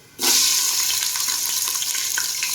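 Chopped onions hit hot oil seasoned with asafoetida while making a sandwich gravy, bursting into a loud, steady sizzle that starts abruptly and keeps crackling close up with no talking.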